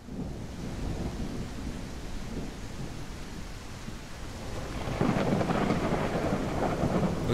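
Dense, steady rain hisses under a thunderstorm, with low rumbling thunder swelling louder in the last couple of seconds.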